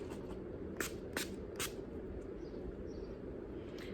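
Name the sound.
setting spray being sprayed on face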